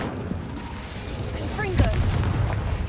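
Incendio fire spell cast in Hogwarts Legacy: a whooshing, crackling burst mixed with game effects and a sparkly chime, moderately loud amid steady background rumble.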